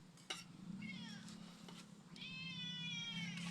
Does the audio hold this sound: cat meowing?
yes